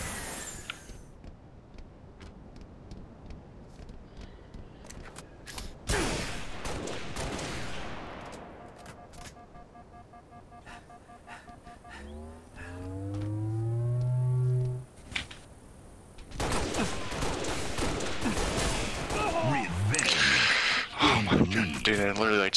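Rapid video-game gunfire from Halo: Reach in a one-on-one match, with bursts of shots, sharp weapon blasts and electronic tones, loud and busy, with a player talking between the shots.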